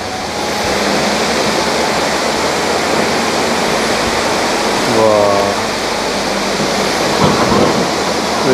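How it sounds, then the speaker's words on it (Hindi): A waterfall pours across a river on a road trip between Itanagar and Bhalukpong in North East India, a loud, steady roaring rush filling the whole clip, with a faint passing rumble in the middle. "यहाँ देखिए, यहाँ भी वाटरफॉल है, नदी का उस पार, कमिंग रिवर का उस पार है।"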